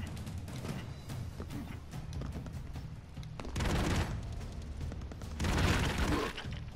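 Rapid bursts of gunfire and blasts in the Broforce video game crackle in dense volleys, swelling into two louder, fuller barrages near the end.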